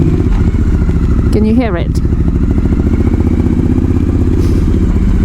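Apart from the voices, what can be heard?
Triumph Thruxton R street tracker motorcycle with changed exhaust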